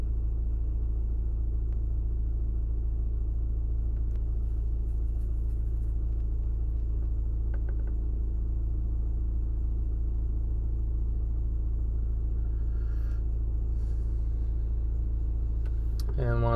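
An idling car engine with an S-Tronic DL501 transmission rumbles low and steady, a constant near drone with faint clicks and a brief higher whine at the end.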